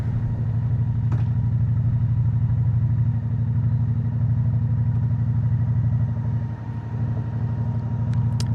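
A Honda Shadow 750 V-twin cruiser motorcycle rumbles steadily while being ridden, a strong continuous low engine drone holding loud and close throughout with only a brief dip near the end.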